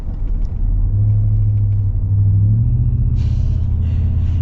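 A supercharged 2025 Ford F-150 Black Widow pickup truck makes a deep, steady engine rumble, loud and close from inside the cab, with a brief higher hiss near the end.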